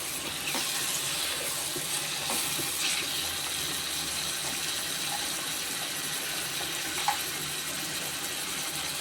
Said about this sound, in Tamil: அதனால் தக்காளி போட்டுக்கணும்.